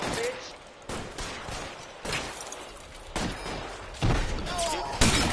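Gunfire in the video game L.A. Noire, with a string of heavy, repeated gunshots spaced about a second apart amid a noisy game mix.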